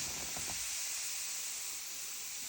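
Oxygen cleaner fizzes inside a saucepan, a steady bright hiss like spraying steam that holds constant and fairly faint throughout, with a few low knocks at the start and no talking.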